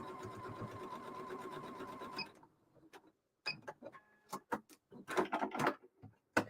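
A sewing machine runs in a steady, rapid mechanical chatter while back stitching, then stops and gives way to scattered clicks and knocks from the machine and fabric handling.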